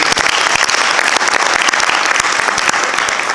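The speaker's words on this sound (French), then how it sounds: "Est-ce qu'on a des applaudissements" Sustained applause fills a municipal council meeting, dense and steady clapping from the room at full loudness throughout, with no voices rising above it.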